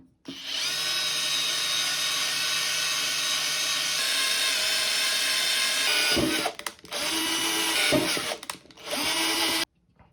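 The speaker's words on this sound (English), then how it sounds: "next we're going to take it up a notch to the actual size of the drill bit that we need to use" A power drill bores a full-size hole into a 3D-printed Proton Pack part, a loud steady whine that runs for several seconds, then stops and restarts in two shorter bursts before cutting off, close up.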